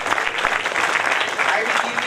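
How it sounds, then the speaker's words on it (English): Students in a classroom clap for a classmate's answer, a short burst of brisk applause with talk mixed in. "He should get a very good clap."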